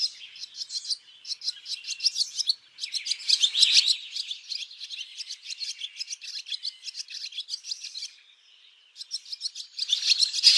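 Swallow chicks chatter and cheep in their nest, a dense, continuous run of high-pitched calls that comes in bursts, drops away briefly near the end and then returns, fairly close and with no talking.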